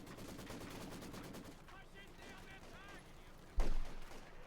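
Rapid machine gun fire in the WWII strategy game Company of Heroes 2, a Wehrmacht versus Soviet match, rattles densely for about two seconds, then thins out before one loud, sharp blast near the end, with a faint voice underneath.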